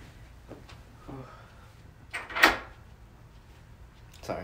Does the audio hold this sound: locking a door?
yes